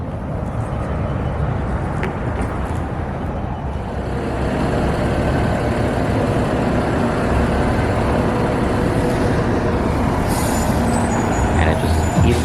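A New York city bus with air brakes idles and readies to pull away, a loud, steady, close engine rumble that swells after a few seconds, with a brief hiss near the end.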